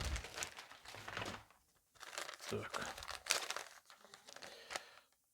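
Crinkly plastic coin packaging being pulled and torn open in several bursts, close by, with a short spoken word in between.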